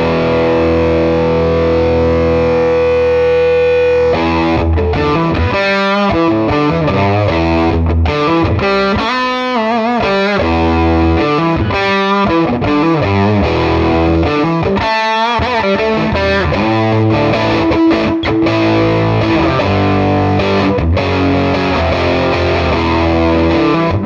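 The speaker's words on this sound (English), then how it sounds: "Let's first check out this amp with it fully cranked and hear what it sounds like that way." Heavily distorted electric guitar plays loud, crunchy chords and riffs through a cranked amp, continuous and aggressive for the whole stretch.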